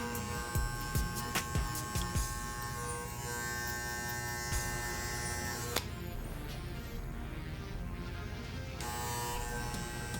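Barber's electric hair clippers cutting a high skin fade, a steady close buzzing hum with brief taps and pauses as the blade touches and lifts, the pitch shifting slightly midway.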